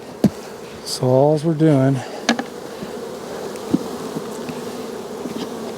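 Honey bee colony buzz rises as a hive box is lifted during a swarm-cell check, a loud close drone for about a second amid low background hum, with someone talking briefly.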